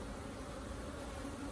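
A honeybee drone buzzes during a hive inspection, giving a faint, steady, continuous hum that neither rises nor fades over its brief span.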